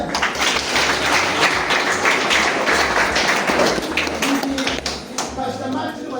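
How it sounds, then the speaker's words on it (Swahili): Congregation members in a Nanyuki church clap once more, a sustained crowd of hands beating in a thick, even roar, loud and close, with a voice faintly mixed in toward the end. "Hebu jipigie makofi tena."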